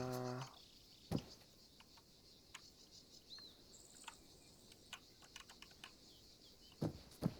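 Sharp, scattered clicks of keys pressed one at a time on a computer keyboard, with a louder cluster near the start and end over a quiet room hiss; no talking.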